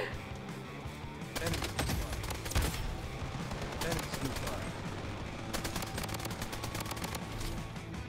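AK47 bursts in the Bloodstrike video game: repeated rapid automatic fire in several bursts over a steady background of game noise, moderately loud, with other distant shots mixed in.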